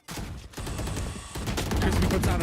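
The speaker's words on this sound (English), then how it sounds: "Crispy puts out a few bullets" Gunfire rings out in a Valorant esports match as a player fires a short burst of bullets. The shots come in quick, loud volleys with a brief pause near the start, and a caster talks faintly underneath.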